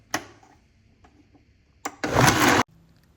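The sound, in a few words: blender blending Irish sea moss into gel on high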